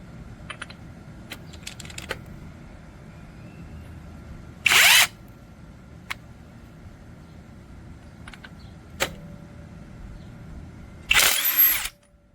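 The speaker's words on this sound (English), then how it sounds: "I'm going to try it out right now for you to see that it removes the lug nut just within a second" A JEXUGK 800 N·m half-inch cordless impact wrench removing a lug nut, two short loud bursts of hammering several seconds apart, with scattered clicks and handling noises between.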